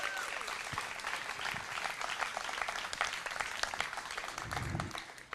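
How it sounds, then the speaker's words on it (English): A crowd applauds steadily, a dense patter of many hands clapping that fades slightly at the end. "How about a big round of applause for all our moms."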